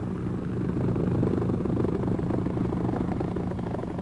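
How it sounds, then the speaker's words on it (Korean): A helicopter used by Norway's Jaeger Corps special forces for infiltration flies steadily, its rotor giving a loud continuous throbbing chop with engine drone that stays close and constant throughout. "예거 대원들은 이상적인 침투용 항공기로서 헬리콥터를 사용합니다."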